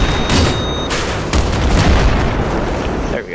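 Heavy booms and blasts from a tank firing in a Battlefield 3 co-op mission, a dense loud roar of explosions and gunfire with sharp onsets near the start and again partway through.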